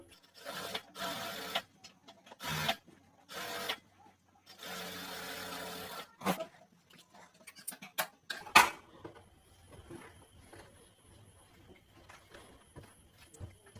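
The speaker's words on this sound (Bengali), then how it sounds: "এই সিলাই উপর দিয়ে আরেকটা সিলাই বসিয়ে দিব" A sewing machine stitches a second seam over an earlier one on fabric, running in short separate bursts of whirring with gaps between them, close up, and a voice speaking in places.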